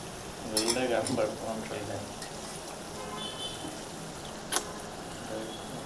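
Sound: prawns added to hot pan with fried ginger, sizzling

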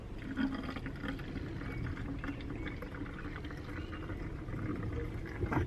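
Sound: vinegar poured into bottle with washing up liquid

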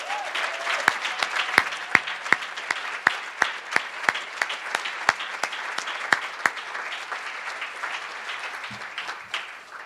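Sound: applause

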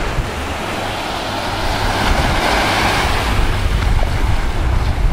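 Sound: waves at the beach

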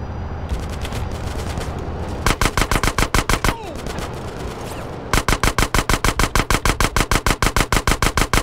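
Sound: enemy gunfire in Grand Theft Auto San Andreas video game

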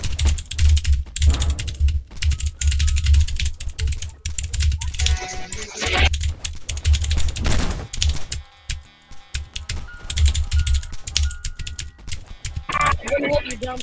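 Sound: typing on a computer keyboard

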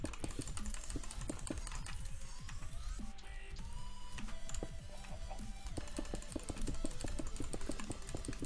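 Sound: typing and clicking on a computer keyboard

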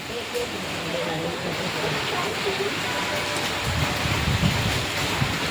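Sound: heavy rain

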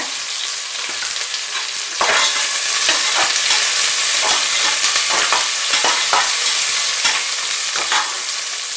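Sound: curry leaves added to onions frying in oil

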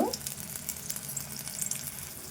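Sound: ginger garlic paste frying in a pan

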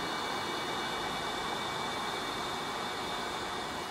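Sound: vacuum cleaner with attachment sucking dirt from air-conditioner grille

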